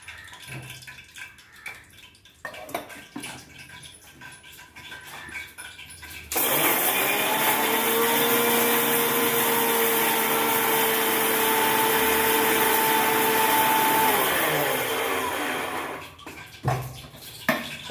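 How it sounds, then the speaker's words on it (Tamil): A mixer grinder blends masala for gooseberry pickle, starting abruptly into a loud, steady whirring drone that runs about ten seconds before winding down, with quiet handling noises before and after. "நான் வந்து மிக்சியில் இதெல்லாம் அரைச்சி போடுறேன்"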